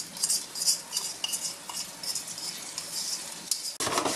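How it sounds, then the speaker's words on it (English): Sweet and sour sauce going into a pan of chicken with kumquats, a light stirring scrape and clink of a utensil against the pan, quiet, ending in a sudden louder burst of noise. "And now we are going to put the sweet and sour sauce in here."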